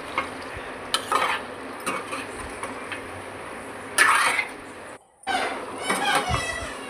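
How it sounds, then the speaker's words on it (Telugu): Chicken curry with chili powder sizzles gently in a pan while a spoon scrapes and stirs it in short bursts, with faint background voices around the cooking. "కారం వేసుకొని ఒక 10 minutes వేగనిద్దాం కూరని."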